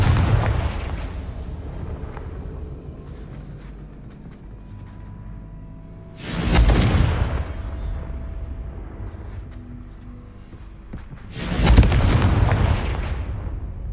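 Two heavy Confringo fire-spell explosions in Hogwarts Legacy, each a loud broadband boom with a rumbling tail, spaced several seconds apart over a steady low ambient background.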